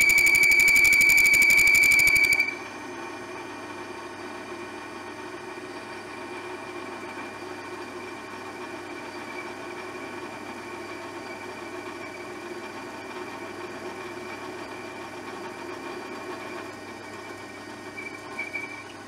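An Opti-Turn TU-2506V-20M combination lathe and mill drill chatters sharply while turning, a loud high-pitched squeal for about two seconds before dropping to a steady low machine hum.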